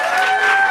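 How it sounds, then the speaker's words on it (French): Short burst of live audience applause at a podcast recording in a venue, a dense, steady wash of clapping that stays loud for under a second. "Applaudissez-vous."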